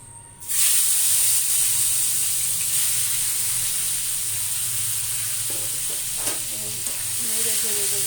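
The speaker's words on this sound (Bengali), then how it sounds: "এখন আমি মাছটা ভেজে নেব।" Shrimp rubbed with salt and turmeric hit hot oil in a wok with a sudden loud sizzle that settles into a steady close hiss of frying, with faint clinks of stirring toward the end.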